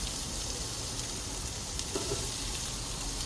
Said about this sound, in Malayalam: സവാള ഇട്ട് കൊടുത്ത് സവാള ജസ്റ്റ് ഒന്ന് മുറിഞ്ഞ് ഇട്ട് കൊടുത്ത് വഴറ്റിയെടുക്കാം